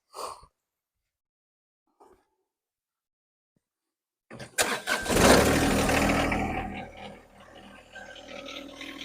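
A John Deere MC2120 material collection system on a lawn tractor starts up after two brief faint knocks, then runs as a loud, steady mechanical roar that eases slightly toward the end.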